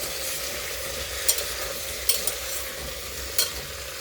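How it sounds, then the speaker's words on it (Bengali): Mixed vegetables for soup sautéing in oil, with an even, continuous sizzle and a few distinct spatula scrapes against the pan, close up with no voices. "এবার সবজিগুলো ভালো করে একটু তেলের সাথে সতে করে নেবো আর কি"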